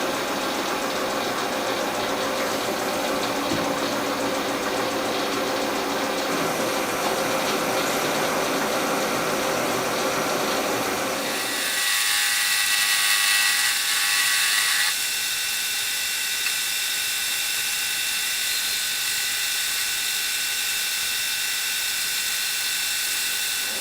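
A metal lathe taking a fine final cutting pass toward a 27 mm diameter, a steady mechanical whir and rattle that stops partway, leaving a quieter hum that carries on to the end.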